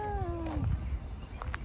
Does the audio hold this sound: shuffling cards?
no